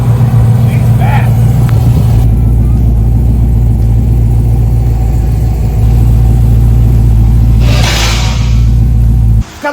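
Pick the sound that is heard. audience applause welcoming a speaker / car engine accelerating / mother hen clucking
car engine accelerating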